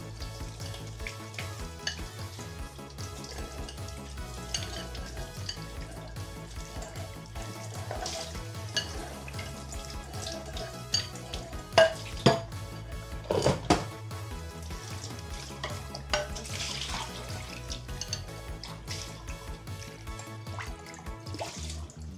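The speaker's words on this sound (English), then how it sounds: "just washing the dishes, clean here everywhere" Dishes are washed at a home kitchen sink under running water, with a continuous watery hiss, scattered drips and occasional clinks of crockery and utensils close by.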